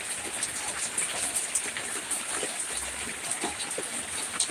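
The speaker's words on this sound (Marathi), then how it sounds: "आमच्या इकडं भरपूर पाऊस चालू आहे" Heavy rain falls in a steady, dense patter on surfaces, with scattered louder drops and splashes. It holds at an even, moderate level throughout.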